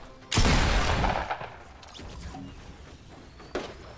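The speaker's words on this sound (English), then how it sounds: "I missed my shotgun shot though" A shotgun blast in the Fortnite video game, one loud sharp boom with a decaying tail, followed by quieter game noise and a second smaller impact near the end.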